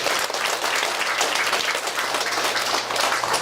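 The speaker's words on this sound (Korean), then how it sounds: "먼저 우리 김윤환 사장님에게 감사의 박수 보시다" Sustained applause from a seated crowd at a school entrance ceremony, thanking the host who provided the venue; dense, steady clapping fills the whole stretch with no talk over it.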